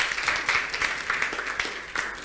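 Audience applause at a live event, steady dense clapping from a crowd lasting the whole short stretch, with no one speaking.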